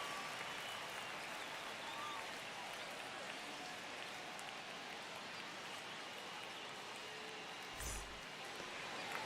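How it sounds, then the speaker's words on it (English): A stadium crowd in the baseball video game MLB The Show 25, Cubs versus Dodgers, produces a steady, moderate roar of cheering and applause throughout, with a brief louder thump near the end. "And now, the crowd is amped up, ready to get this season underway"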